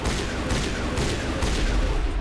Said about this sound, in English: we're going to shoot the fuck out of that